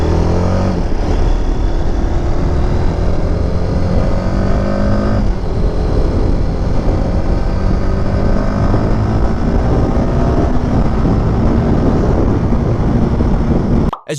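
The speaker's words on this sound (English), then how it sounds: "Now let's ride faster and see what happens." A motorcycle engine roars continuously while being ridden fast, with loud, steady drone and rising revs as gears shift, strong wind rush throughout, cutting off abruptly at the end.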